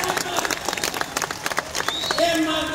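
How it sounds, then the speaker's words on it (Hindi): Audience at a stand-up comedy show clapping in quick irregular bursts, loud and close, with a voice and crowd noise mixed in toward the end. "आपको कसम है, बजाओ ताली।"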